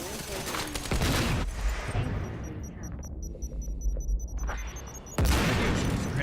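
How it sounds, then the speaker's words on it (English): Grenade blasts and gunfire in the video game Quantum Break: a heavy burst of booming fire at the start, a quieter stretch with faint high beeping, then another loud eruption near the end. "Grenades everywhere. They just keep throwing grenades."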